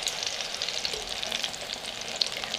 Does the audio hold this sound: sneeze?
no